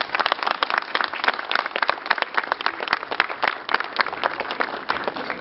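Crowd applauding a youth fire brigade team at a municipal firefighting sports contest, many hands clapping outdoors in a steady, fairly dense rhythm of distinct claps.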